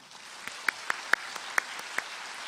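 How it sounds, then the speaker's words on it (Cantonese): An audience claps for award-winning kindergarten children at a graduation ceremony; sparse, scattered claps ring out near and distinct, a handful of sharp hits over a soft background. "我希望藉住各位嘅掌聲，恭賀各位獲獎嘅小朋友"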